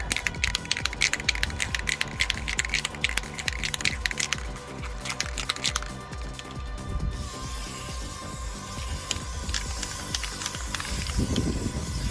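Spray can of crystal clear coat hissing steadily onto a Roland AX Edge keytar body being customized, a loud, close continuous aerosol spray with brief pauses and shifts in tone, no voices.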